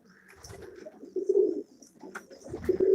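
Pigeons coo nearby in soft, throaty rolling calls, several overlapping phrases rising and falling over a quiet background.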